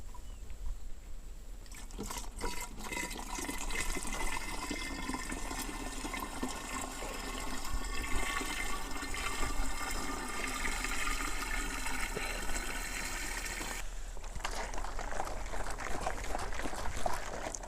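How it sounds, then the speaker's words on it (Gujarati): Water, about five liters, poured from a container in a continuous, loud, close rushing stream that runs for over ten seconds, then cuts off abruptly near the end. "હવે આપણે દસ લીટર પાણી એડ કરી દઈશું એની અંદર"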